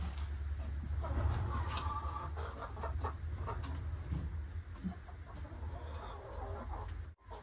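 Several chickens cluck and murmur close by in an off-grid homestead chicken run, a steady busy chorus over low rumbling background, with a person speaking briefly.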